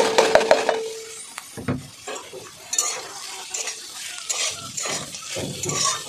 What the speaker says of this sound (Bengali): এই যে কুচানো গাজরগুলো দিয়ে দিচ্ছি